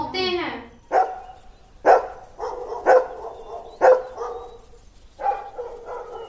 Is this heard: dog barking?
yes